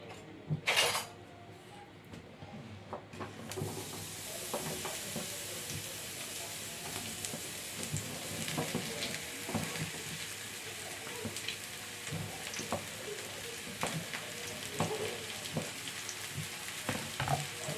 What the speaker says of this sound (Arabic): هنسخن بقى الجريل بتاعنا ونضيف عليه معلقتين من الزيت. ننزل بالبدنجان.